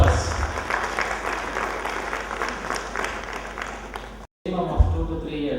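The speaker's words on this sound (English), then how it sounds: "A big round of applause to all of us" A conference audience at a valedictory session applauds in a dense, steady roar of clapping for about four seconds. It cuts abruptly to silence, and then a voice begins speaking.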